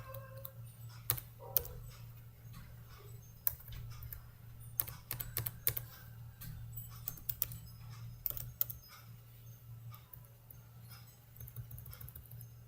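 Keys clatter on a computer keyboard as Linux package update commands are typed into an Ubuntu server terminal, an irregular run of close, quick clicks and taps over a steady low hum.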